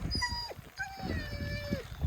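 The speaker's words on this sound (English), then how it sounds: "We have a whinging dog," Dog on a paddling trip on a river whines in drawn-out, high, wavering whimpers, two long cries close by over a rustling background.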